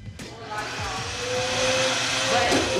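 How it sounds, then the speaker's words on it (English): Household vacuum cleaner running steadily indoors, a continuous broadband whir that builds slightly in loudness, with a person talking over it. "So you said you didn't know how the vacuum works?"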